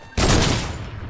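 A loud burst of sniper rifle gunfire in Fortnite during a sniper battle on ice, a sharp crack that rings into a sustained decaying roar.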